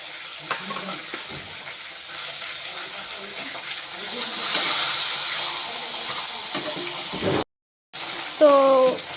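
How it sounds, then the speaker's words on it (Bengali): Fish frying in oil gives a continuous close sizzle with bursts of stirring and spatter, rising louder midway before a brief cutoff. "তো মাছ আবার আমি ছেড়ে দিচ্ছি।"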